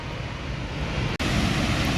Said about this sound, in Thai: ถึงแล้วครับ น้ำตกแห่งคุณหมิงครับ